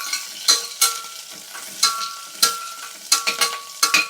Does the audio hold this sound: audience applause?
no